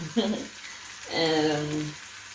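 Cheddar cheese frying in a pan, giving a steady soft sizzle under a person speaking, with a short clatter near the start.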